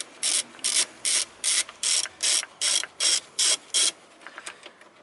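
A hand ratchet tool loosens a throttle body bolt on a 2000–2010 Toyota Corolla, about ten evenly spaced, close clicking ratchet strokes followed by a few softer clicks.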